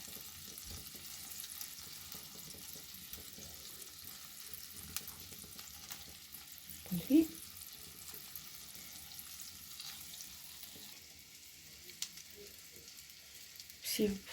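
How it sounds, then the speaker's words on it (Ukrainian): Meatballs are browned one at a time in a frying pan for a quick soup, giving a soft, low sizzle with faint stirring and a few clinks, quiet throughout. "Я їх трошки обсмажую перед тим, як викладаю зубку."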